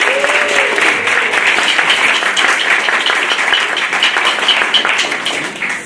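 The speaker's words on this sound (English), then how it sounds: "Round of applause for the trumpet section." Dense, steady applause from a high school winter concert audience for the trumpet section, continuous and fairly loud throughout with a faint voice briefly audible near the start.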